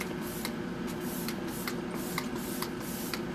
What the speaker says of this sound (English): with a couple spritz of our setting spray.